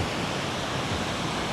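Steady ocean surf at My An Beach in Da Nang, Vietnam, a continuous broad wash of low waves close by with no talk over it.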